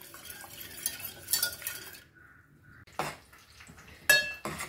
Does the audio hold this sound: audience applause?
no